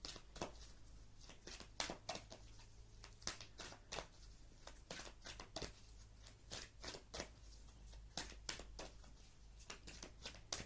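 Oversized oracle cards from the Wild Wisdom of the Fairy Oracle deck being handled and drawn, making a steady run of crisp, close slaps and shuffling flicks with faint paper rustle throughout.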